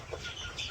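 Hens clucking and chattering close by, a continuous busy murmur of several birds.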